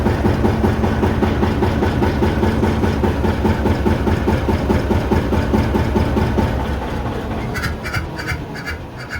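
A John Deere R tractor diesel engine runs loud and close with a steady low chugging rhythm, then slows and fades as it winds down toward shutdown near the end.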